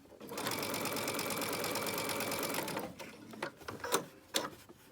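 A sewing machine runs in a fast steady whir while stitching a child's 3-D face mask, then stops, followed by a few short clicks and handling noises close by.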